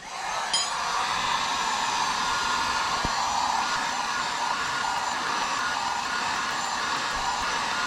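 A heat gun blows steadily while warming a car fender before it is rolled flat, a constant close whooshing hiss that holds even throughout, with a faint click near the start.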